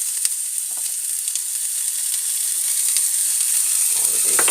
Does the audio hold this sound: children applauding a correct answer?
no